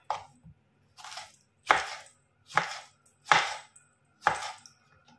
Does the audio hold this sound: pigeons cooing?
no